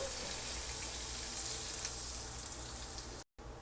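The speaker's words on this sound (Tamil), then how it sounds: "இந்த அடித்து வச்ச முட்டையை இந்த வேக வச்சுருக்கிற முட்டை மேலே ஊற்றிடலாங்க" Beaten egg poured over boiled eggs in a hot pan for egg masala, giving a steady, close, bright sizzling hiss that cuts out briefly near the end, with no talk.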